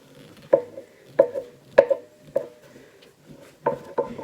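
A knife strikes a cutting board while dividing cinnamon bun dough into four equal parts. Several crisp, evenly spaced knocks sound close by in a quiet kitchen.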